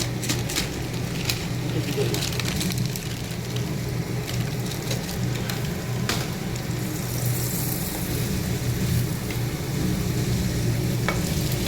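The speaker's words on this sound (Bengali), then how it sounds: "এবার সেমাইটা দিয়ে একটুখানি ভাজবো" Vermicelli tossed into a pan with already fried carrots and onions, a dense steady sizzle with stirring scrapes and occasional utensil clicks, loud and close.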